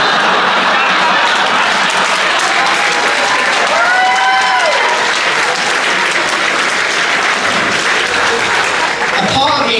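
Comedy club audience applauding a stand-up comedian's set, a dense, steady wash of clapping sustained throughout, with a cheering voice rising briefly in the middle.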